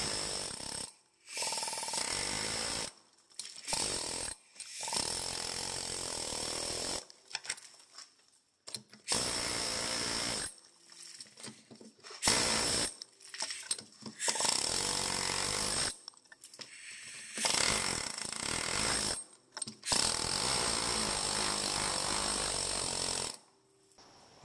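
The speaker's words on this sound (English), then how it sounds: "Once you hit it with the air chisel and everything starts crumbling, you get to find out what you're really up against." An air chisel hammers away rusted unibody frame metal on a car, coming in loud rapid chattering bursts of a few seconds each, broken by short silent pauses, with no talk.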